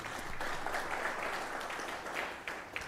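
An audience at an African Council for Distance Education 20th anniversary celebration claps together in a dense, steady round of applause.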